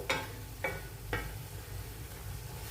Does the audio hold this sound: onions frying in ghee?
yes